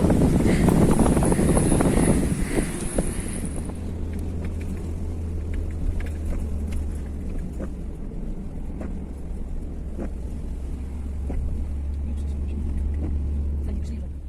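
Strong wind buffets outdoors as rain starts again, a heavy rushing gust roar near the microphone at first, then a steadier low wind rumble while people talk.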